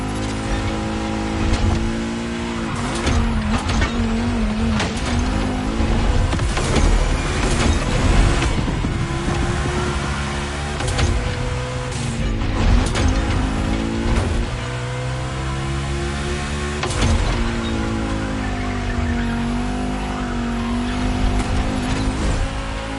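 Volkswagen race cars roaring around the track in The Crew Motorfest, steady loud engine drone with rising and falling pitch sweeps as cars accelerate and pass, continuous throughout with no talk.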